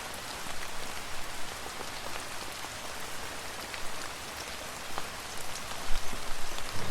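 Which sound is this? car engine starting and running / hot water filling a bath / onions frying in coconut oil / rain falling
rain falling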